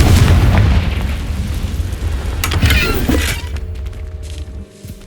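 In Hogwarts Legacy, the fire spell Confringo explodes with a loud, booming blast and shattering debris that rumbles and then fades away, with no talk.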